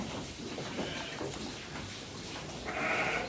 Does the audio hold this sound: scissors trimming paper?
no